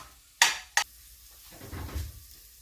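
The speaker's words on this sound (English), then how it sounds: "Now we're just gonna give this a minute to cook down a little bit." Onion and peppers cooking down in a pan, with two sharp utensil clicks against the pan followed by a soft, low sizzle and stirring up close.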